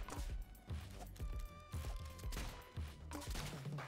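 Rapid bursts of gunfire from the video game Rounds, with repeated sharp shots in an irregular rhythm over a busy game soundtrack.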